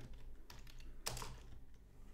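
Quiet typing on a computer keyboard while entering text into a table in a Google Docs document, with a steady run of soft key clicks and one sharper tap partway through, and no talking.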